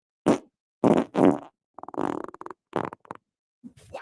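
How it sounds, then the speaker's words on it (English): A series of close, loud farts, with several separate bursts of varying length and some rattling, sputtering ones, spread over a few seconds. "You earned that fart"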